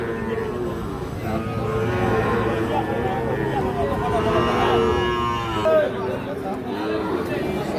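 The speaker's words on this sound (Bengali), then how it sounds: "এখানে একটা দেখছিলাম শাহিওয়াল আর ষাঁড় বাছুর" Sahiwal bull calves around five to six months old at a busy livestock market in Rajshahi, with lowing and moos rising above a dense babble of chatter and bargaining voices that runs through the whole stretch.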